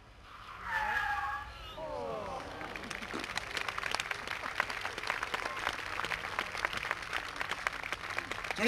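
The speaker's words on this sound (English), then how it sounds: "Give him a round of applause." Crowd applause at an outdoor car stunt show, with a clatter of clapping building after a short burst of tire noise and an announcer's voice, sustained and fairly loud across a wide open space.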